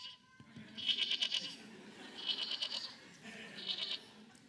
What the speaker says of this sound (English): some of the goats around there responded with their same sound right back.